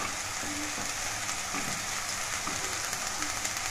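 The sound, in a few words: vegetables frying as chopped beans are added and stirred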